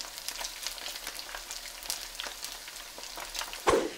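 Hot dogs deep-frying in hot oil give a steady, fairly quiet crackling sizzle with scattered pops, plus one louder clatter near the end, and no voices.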